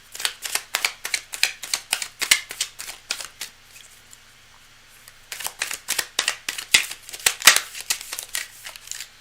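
Tarot cards being riffled and bridged in rapid bursts, crisp papery flutters repeating in a brisk rhythm, pausing briefly midway before resuming, close and fairly loud with no talking.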